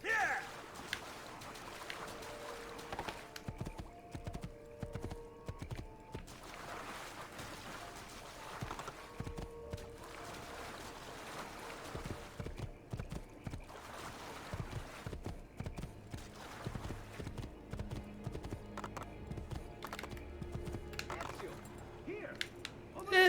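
Horse hooves clip-clop steadily in the video game Assassin's Creed II, a continuous rhythmic patter of fairly close footfalls running under game sounds and intermittent talk.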